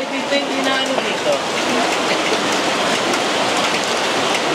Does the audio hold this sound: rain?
yes